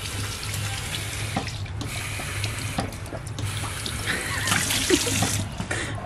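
Tap water runs steadily into a sink during face washing in a dim campsite washroom, a continuous close splashing stream with a low hum underneath and no talking.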